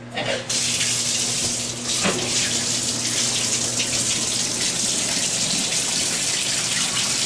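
Water gushes steadily from a tap into a bathtub for a reticulated python, a loud continuous splashing roar that starts abruptly and stays even throughout.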